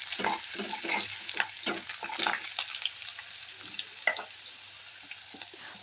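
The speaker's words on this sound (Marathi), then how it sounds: "त्यामध्ये कांदा ॲड केला. कांदा छान तळून घ्यायचा आहे" Sliced onion frying in hot oil with cumin and mustard seeds, a steady loud sizzle with crackling spikes and occasional stirring scrapes, no voices.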